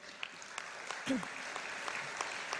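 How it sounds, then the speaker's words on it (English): Audience applause at a Rotary district conference: a steady, fairly faint wash of clapping from a large room that carries on throughout, with a short voice-like sound partway through. "I would like you all to give him a next round of applause"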